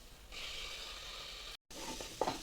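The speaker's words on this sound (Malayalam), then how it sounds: "അതിൻ്റെ പച്ചമണം മാറുന്ന വരെ ഒന്ന് വഴറ്റിയെടുക്കുക." Garlic, ginger and crushed green chillies sizzle steadily with browned onions in a pot for seafood biriyani, a continuous close hiss with a brief dropout and a few stirring scrapes near the end.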